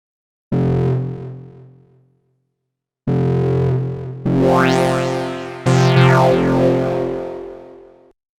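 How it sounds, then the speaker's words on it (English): BABY Audio BA-1 synth chords play in separate stabs through a delay, and their echoes repeat and sweep as each note fades. The tone is bright and buzzy, with no voices. "You have the amount, which is basically the feedback of it, and you have the rate"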